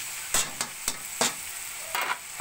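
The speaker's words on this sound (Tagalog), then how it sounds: "sinabay ko na yung carrots sa aking paggisa" Carrots being sautéed in a pan, a steady sizzle broken by about six short scraping stirs at an uneven pace, close and moderately loud.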